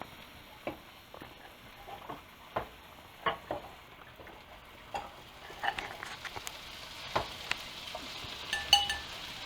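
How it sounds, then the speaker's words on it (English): Meat being stirred in a bowl with leftover flour, giving soft, irregular scraping and tapping strokes spread over several seconds, close but quiet, with a faint background hiss and no talk. "I'm just going to stir them up again, so they'll get the last of that flour."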